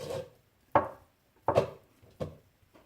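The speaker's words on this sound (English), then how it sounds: "I'm quickly just going to chop up some mozzarella to nice slices" Knife slicing mozzarella into rounds on a chopping board: five crisp, separate cuts, each a sharp thump against the board with a brief soft tail, spaced about three quarters of a second apart, close and with no talking.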